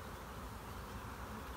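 Honey bees at a hive being transferred from nucleus colonies, a faint, steady insect hum with no break, low and distant throughout.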